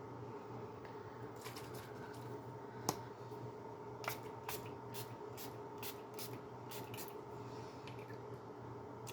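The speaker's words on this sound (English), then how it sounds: "it reminded me I have setting sprays back here I can use" Gerard Cosmetics Slay All Day peach setting spray pumped in a string of quick, faint hissing bursts, several in rapid succession, in a quiet room with no talk.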